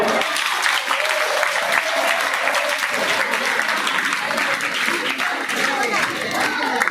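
A room of students and staff at a school quiz competition applauding loudly, dense sustained clapping throughout with voices mixed into the crowd noise.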